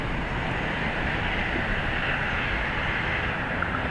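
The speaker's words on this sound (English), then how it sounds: "ATR is off to the Isle of Man." An ATR turboprop departing Dublin Airport for the Isle of Man gives a steady, broad engine roar at a moderate distance, constant across the moment with no voices.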